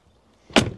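A Mercedes-Benz G-Class car door shuts with a single solid, heavy thud after near silence, loud and close, with a short fading rattle.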